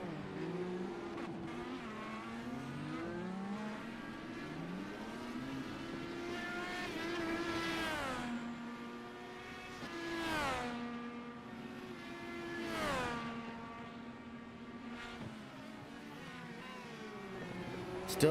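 Race cars circle the Long Beach track, engines swelling and fading as they sweep past one after another at moderate distance, their pitch dropping with each pass; a commentator's voice is faint underneath.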